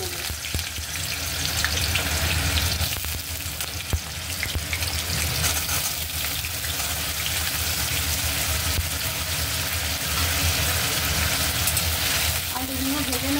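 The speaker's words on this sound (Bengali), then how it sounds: "এবার ছোট ছোট করে কেটে রাখা আলুগুলো আমি ভেজে নেব।" Diced potatoes fry in hot oil for a Bengali vegetarian mochar ghonto, giving a steady, dense sizzle that stays loud and even throughout, with occasional stirring clatter and no talk.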